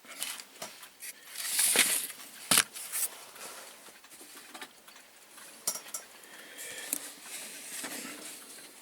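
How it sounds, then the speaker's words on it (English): Limestone roofing chippings are tipped into a pot, giving quiet, scattered rattles and clinks in short bursts with pauses between them. "Put in the limestone chippings."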